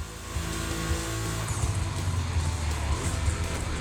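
Cars racing on a track in The Crew Motorfest gymkhana grid event, a dense continuous engine roar with tires squealing and skidding, loud and steady throughout.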